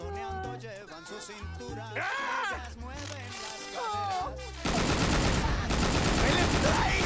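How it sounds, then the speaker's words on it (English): Gunfire in the Scarface: HD Remastered PC video game: loud rapid shots and bursts amid music and shouting voices, building to a dense, sustained barrage of fire near the end. "They gotta stop this shooting"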